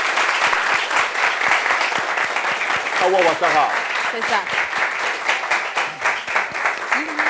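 Lively audience applause in a television studio as a guest named Awa is welcomed, dense rhythmic clapping throughout with a host's voice speaking briefly over it.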